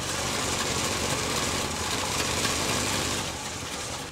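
A 1968 Chevrolet C10 pickup engine struggles at a rough idle, a dense, steady mechanical churn with faint uneven knocking, close and constant throughout with no talking.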